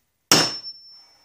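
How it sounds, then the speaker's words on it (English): A single sharp metallic tap of a hammer striking a sharp-pointed punch to mark metal for drilling on a Snapper mower clutch, leaving a high ringing tone that slowly fades. "you're going to take a good punch with a nice sharp point, and you're going to mark these holes"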